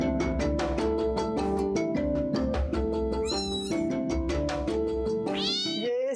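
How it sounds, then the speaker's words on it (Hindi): A two-month-old kitten meowing and crying repeatedly under loud, continuous background music, with several rising, wavering cries standing out near the end. "ये बहुत रो रहा है, क्यों रो रहा है पता नहीं"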